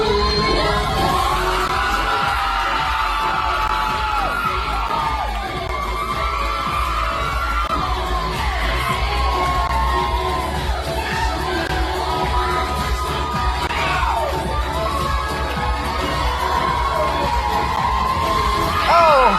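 A large audience at a drag show cheers, whoops and yells without pause, a dense, loud wall of crowd noise with shrill individual voices rising and falling above it.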